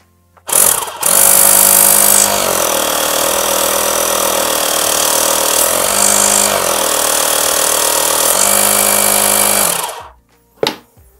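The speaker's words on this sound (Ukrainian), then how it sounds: "доволі таки потужно працює компресор" A Michelin W12266 12-volt car air compressor switches on with a click and runs loudly for about nine seconds as a steady, buzzing mechanical drone with a slightly wavering pitch, then stops, followed by a short clunk.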